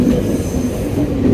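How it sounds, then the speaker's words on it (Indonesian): A train rolls through a busy city station in Medan, loud and close, with a rumbling wheel roar and a faint squeal of metal throughout, no voices. "Ini seperti ini nih, kereta api berlalu lalang."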